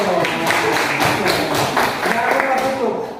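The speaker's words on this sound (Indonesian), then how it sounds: "Kasih tepuk tangan dulu." Indonesian students in a history class clap for a group presentation, with brisk scattered applause from a small group that is fairly loud and close and blends with overlapping voices.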